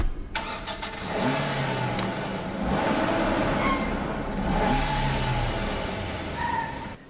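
A car engine cranks and catches, then revs and hums steadily as the vehicle pulls away, a moderately loud, continuous engine drone with rising and falling swells.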